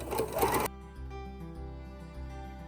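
A sewing machine stitches a tee shirt dress, its motor whirring in a steady, rhythmic hum after a brief burst of louder handling noise at the start.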